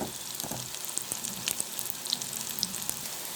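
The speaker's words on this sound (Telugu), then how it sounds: "ఆయిల్లో ఫ్రై అవ్వాలి" Brinjal pieces and tamarind fry in oil for a pickle, giving a steady close crackling sizzle with small pops and occasional light stirring scrapes, with no talk.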